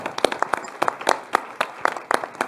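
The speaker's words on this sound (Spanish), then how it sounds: "Un aplauso por eso, qué bonito." Scattered hand claps from a small conference audience, irregular and fairly close, with no voices.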